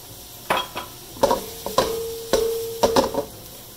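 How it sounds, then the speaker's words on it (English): Red onion dropped into hot coconut oil in a pan, short bursts of sizzling and stirring with a few metallic clanks of the utensil against the pan, close and without speech. "Let's add the red onion to the coconut oil."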